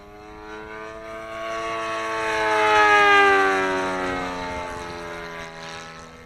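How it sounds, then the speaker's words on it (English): A Messerschmitt 109 aircraft engine running on its maiden flight, a raspy droning tone whose pitch shifts as it swells louder toward the middle and then fades, heard alone without talk. "That engine sounds lovely."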